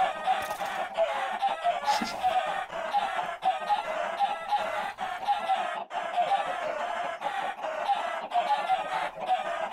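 Chickens in the Minecraft modpack Agrarian Skies cluck steadily and busily for several seconds, with a dense, continuous flock sound and no talking.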